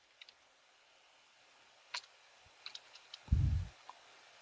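Keys are typed on a computer keyboard while entering a command: a sparse series of faint clicks and taps spread out across a quiet room, with one brief low thump near the end.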